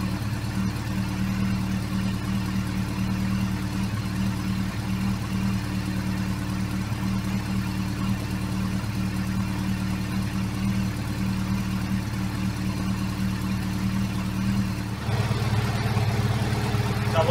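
A Yamaha FJR1300 motorcycle engine idles steadily during a throttle body sync, an even, close rumble that holds for the whole stretch and shifts slightly in tone near the end.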